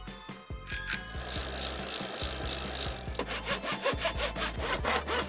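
Foam material is rubbed on concrete to even it out for a DIY toad stool, giving a steady, gritty scraping that turns into a series of quick rhythmic back-and-forth strokes, close and alone.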